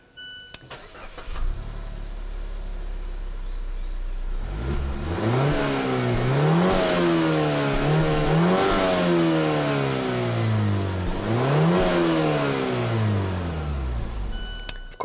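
A 2018 Mazda6 Signature's 2.5-liter turbocharged Skyactiv-G four-cylinder starts with a loud crank and catch, then settles into a close idle before several rising and falling revs, each climbing smoothly and dropping back.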